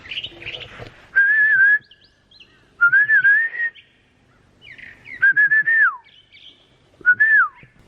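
A person whistles short, bird-like phrases of warbling notes with pauses between, imitating birdsong, close and clear against a quiet background.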